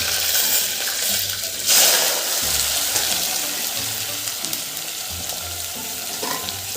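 Spiced tempering of asafoetida and chopped vegetables in hot oil for a buttermilk dish, sizzling and spattering steadily and loudly, with a brief sharp burst of splashing early on.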